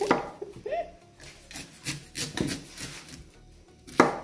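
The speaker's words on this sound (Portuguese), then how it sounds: "Corta o milho, ralo o milho." A knife scrapes and cuts kernels off ears of corn in a home kitchen, a steady run of close rasping, chopping strokes with a brief clatter of a bowl near the end.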